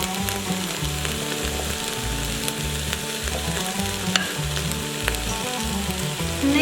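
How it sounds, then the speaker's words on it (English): Chopped potatoes dropped into carrots, onions and celery sautéing in an Instant Pot, a close, steady sizzle with stirring scrapes and a few sharp clinks of a utensil against the pot. "we're gonna add the potatoes"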